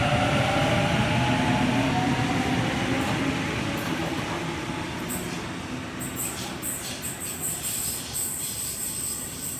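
A Sydney train departs Cheltenham station at night, its loud rolling rumble and wheel noise filling the scene and gradually easing as it pulls away, with high squeals and insect chirps emerging near the end.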